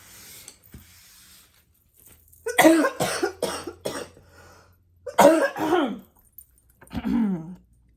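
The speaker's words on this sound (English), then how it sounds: "I was sick last week, and I have this remainder of this cough" A series of harsh coughs in two bursts, then a softer cough, close to the listener in an otherwise quiet room.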